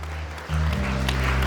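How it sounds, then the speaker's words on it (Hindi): Applause from an audience at a bridal show event in Ambikapur, a broad wash of clapping that swells louder about halfway through, with a steady low hum running underneath. "बस एक बार जोरदार तालियां"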